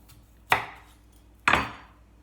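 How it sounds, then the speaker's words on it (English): Two crisp knife strikes on a cutting board about a second apart as a potato is sliced, each a sharp close thunk with a brief decay, with no talk around them. "That's a bit thick. I'm going to slice that."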